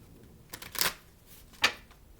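Tarot cards are shuffled close by in two short riffling bursts separated by a pause, quiet and crisp, with no speech.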